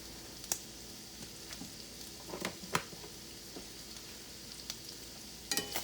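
Vegetables fry in a pan while being stirred, giving a quiet, steady sizzle broken by scattered sharp scrapes and clicks from the stirring utensil.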